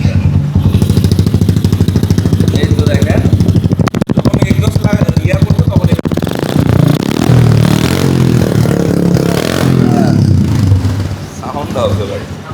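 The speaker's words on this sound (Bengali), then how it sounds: "এটা কিন্তু ইঞ্জিনের কোনো সাউন্ড নেই দেখছেন কাট কাট কাট কাট কাট কাট কোনো কিছুই নেই হ্যাঁ ক্লিন সাউন্ড আছে" A modified Yamaha FZS 150cc motorcycle, restyled like an R15 v2, idles with a steady low engine rumble close by, and someone talks over it.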